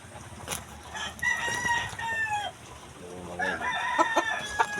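Chickens clucking and a rooster crowing at a farmyard before a typhoon, several crows and clucks close by over a quiet background, with a voice faintly underneath.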